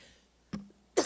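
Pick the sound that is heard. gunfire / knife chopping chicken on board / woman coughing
woman coughing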